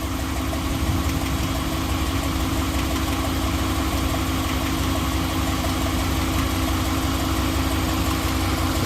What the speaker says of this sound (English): Truck developed a little bit of a tick on startup.